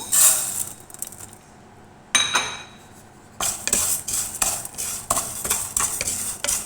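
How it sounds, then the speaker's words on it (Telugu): A cup of vermicelli (semiya) is fried in a pan for upma, with scraping stirs and metallic clinks of a utensil against the pan, close and fairly loud, broken by one brief lull and no speech. "ఇప్పుడైతే ఈ సేమియాలు ఒక కప్పు తీసుకున్నాను నేను ఇవి ఫ్రై చేసుకుంటాను"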